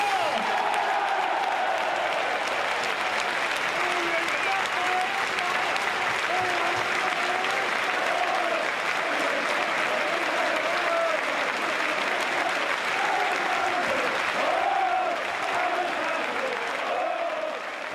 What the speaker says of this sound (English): please make some noise for Graham Alexander!